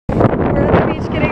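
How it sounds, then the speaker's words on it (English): Loud, blustery beach wind buffets the microphone, a continuous rumbling roar from start to finish. "Oh my god, it's so windy, you probably can't even hear me."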